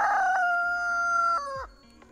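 A rooster crows loudly and close by, one long drawn-out call that breaks off at the end, with no talking.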